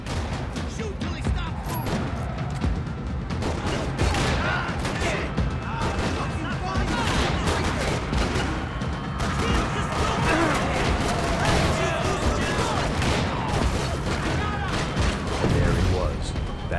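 Steady in-game gunfire and combat noise from Max Payne 3, shots crackling and thudding in a dense, continuous mix at fairly constant loudness throughout.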